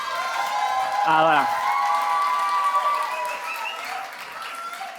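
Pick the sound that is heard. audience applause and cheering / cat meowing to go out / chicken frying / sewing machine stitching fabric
audience applause and cheering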